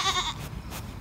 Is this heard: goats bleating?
yes